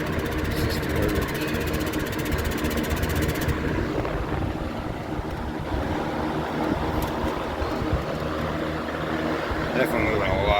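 A vintage Lakewood box fan runs at a steady, loud whoosh of moving air with a constant motor hum, continuous throughout and close by.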